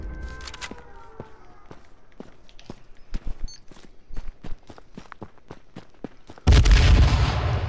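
A grenade blast in the battle royale game H1Z1 lands as a sudden loud, broad boom near the end, after a run of sharp, evenly spaced footsteps or shots.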